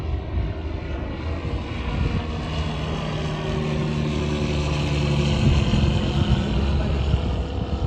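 A propeller airplane passes near Baramati airport without landing, its steady engine drone holding loud and continuous and swelling slightly as it draws nearer, with no talk over it.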